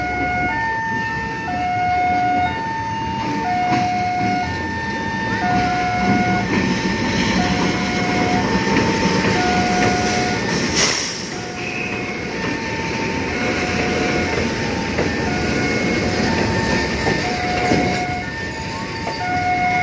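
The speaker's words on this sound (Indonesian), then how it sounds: "lokomotif double traksi dan satu gerbong kabus dilangsir ke arah timur" Two coupled diesel locomotives in double traction shunt a brake van eastward at Kricak station, a loud steady engine rumble with a long repeating horn or warning tone throughout and a brief sharp burst midway.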